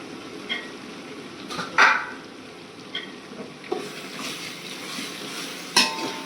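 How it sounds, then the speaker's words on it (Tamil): Mint and coriander leaves being sautéed in a pan: a soft, steady sizzle runs throughout, broken by a few sharper spatula scrapes and metallic clinks. No one speaks. "ஒரு 5 நிமிஷம் நல்லா வதக்கிக்கலாம்."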